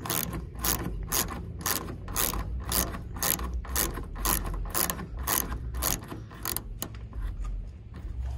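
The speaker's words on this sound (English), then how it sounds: "let's make our ratchet go to the right, tighten this up" Rapid, steady clicking of a hand ratchet tightening taillight bolts on a 2014 Chevrolet Silverado during an LED taillight install, close up and continuous with no talking.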